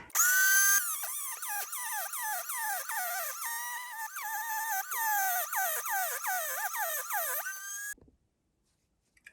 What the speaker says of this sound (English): This time I'm going to cut a couple of the aluminum bars for the first time.